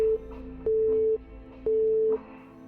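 A telephone tone from an unanswered call repeats in even half-second beeps separated by short silences, loud and clear with no talk over it.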